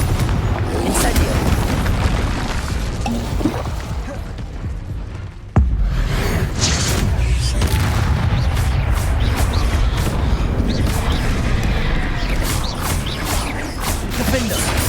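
Spell combat in Hogwarts Legacy, with Confringo blasting curses going off as loud booms among clanking, ratcheting mechanical clatter, a brief dropout midway, then continued dense rumbling impacts.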